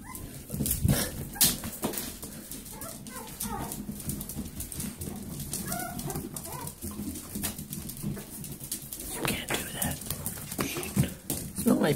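A dog whimpers and whines in short, high bursts scattered through a few seconds, close to the microphone, while a person talks to it at intervals.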